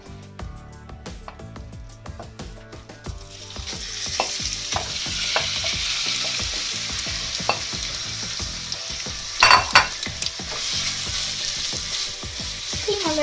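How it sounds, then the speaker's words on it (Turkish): Minced meat hits melted fat in a pan for Tokat tirit, starting with clattering scrapes and knocks, then swelling into a loud, steady sizzle as it is stirred, with sharp spoon clanks along the way. "şimdi yağlarımız eridi ve içerisine kıymamızı dökeceğiz arkadaşlar"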